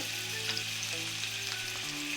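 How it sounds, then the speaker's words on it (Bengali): Hilsa fish pieces fry in moderately hot oil with a continuous even sizzle and crackle, close by, mixed with quiet background music and no speech. "আমার তেল মোটামুটি গরম হয়ে গেছে মনে হচ্ছে আমি মাছগুলো দিয়ে দিচ্ছি"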